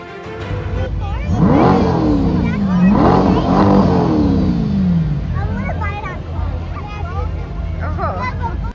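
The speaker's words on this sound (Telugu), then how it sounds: "ఇంక ఇక్కడి నుంచి మీకు రకరకాల కార్లు అయితే వస్తూ ఉంటాయండి" Cars rolling past in a Memorial Day parade in America, engines humming and revving nearby under a steady crowd babble with voices talking throughout.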